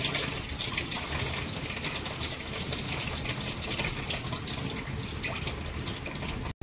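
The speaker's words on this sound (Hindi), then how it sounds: "ऊपर से पानी निकाल लेंगे इसका।" Water is drained off idli rava that has been rinsed several times, a steady broadband splashing and gushing like a tap or sink pour, continuous and fairly close for several seconds before stopping abruptly.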